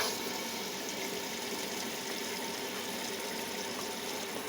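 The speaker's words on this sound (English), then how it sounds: "So I'll set the washing machine going, and it'll be more effective that way." Washing machine starting up and filling with water, a steady rushing hiss of inflowing water with a faint pump hum running continuously and evenly throughout, moderately loud and close with no talk.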